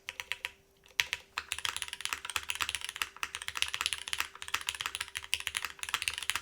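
Brisk typing on a Cloudline v2 mechanical keyboard with brass and aluminum parts, a close stream of crisp, even keystrokes after a brief pause near the start, with no talking.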